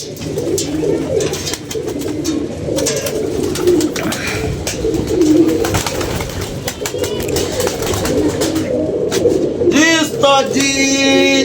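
Pigeons coo repeatedly and steadily in a low, throaty rhythm close by, with other birds and a busy background; a brief rising whistle or squeak near the end.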